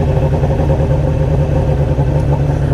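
A Suzuki Katana 600cc motorcycle engine runs with a steady, loud, low rumble at close range, unbroken for the whole stretch and with no voices.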